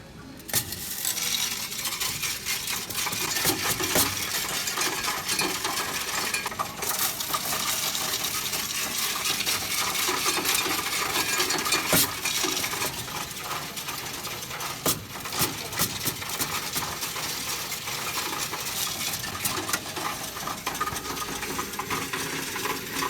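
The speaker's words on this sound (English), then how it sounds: "we'll start with all those pennies while frequently checking the return slot for any coins that didn't pass the first go" Pennies pour through a coin counting machine in a continuous metallic clatter and whir, with sharp clinks scattered throughout the long run.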